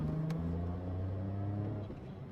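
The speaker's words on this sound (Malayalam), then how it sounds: "ഒരു ക്വിക്ക് ഓവർടേക്ക് ചെയ്യാൻ പറ്റുമോ നോക്കാം" A 2025 Toyota Taisor car accelerates for a quick overtake, heard from inside as a steady, low engine drone with a rising tone that eases slightly near the end.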